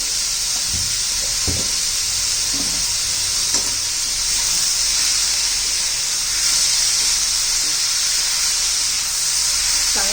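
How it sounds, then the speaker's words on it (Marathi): Tomatoes with salt sauté in a pan, a loud, steady hiss of frying with scattered spoon knocks and stirring scrapes early on, continuous for the whole stretch without talk. "मऊ होईपर्यंत आपल्याला परतून घ्यायचं आहे"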